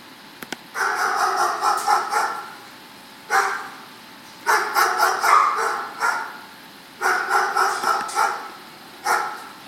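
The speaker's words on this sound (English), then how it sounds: "Dogs barking." Dogs bark in repeated bursts of rapid, sharp yaps, four clustered volleys separated by short pauses, moderately near and fairly loud.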